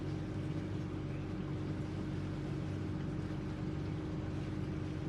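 Boat engines running at low speed during a trip through a city canal lock, a steady low droning hum that continues unchanged and fairly quiet throughout.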